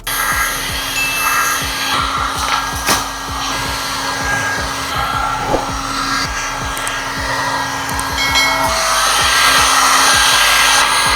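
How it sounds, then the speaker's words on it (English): A heat gun blows a steady, loud whooshing hiss while softening vinyl wrap on a car's front bumper, running continuously with faint rubbing and tapping underneath. "Move the heat gun back and make sure that when you're heating it, you're making it move in an efficient manner."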